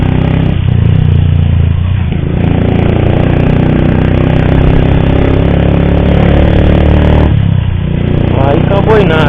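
A motorcycle engine with a strange clattering fault runs steadily and loudly up close, a dense mechanical rattle over a low drone, with a voice briefly audible near the end.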